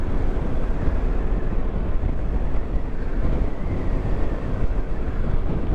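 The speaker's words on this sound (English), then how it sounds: "I don't know if you can hear, but it is windy now." Steady wind at Loch Doon buffets the microphone with a constant low roar, rumbling and gusting throughout without a break.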